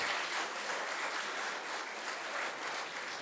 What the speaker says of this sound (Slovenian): Še en aplavz dajmo ansamblu Rinka